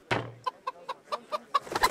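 Chicken in Kingdom Come: Deliverance clucking in a quick, evenly spaced series of short clucks, close and clear, with no talk over it.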